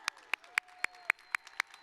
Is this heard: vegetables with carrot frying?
no